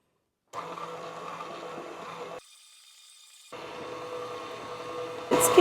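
An electric mixer beats king cake batter in a bowl, a steady whirring drone that stops briefly in the middle, then resumes, close and moderately loud.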